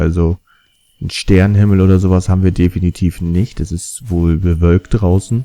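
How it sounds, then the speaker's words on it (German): Crickets chirp faintly outdoors at night in the game Magdalena, a thin trill heard mostly in a short pause, with someone talking over most of the rest. "Man hört die Grillen ein bisschen zirpen."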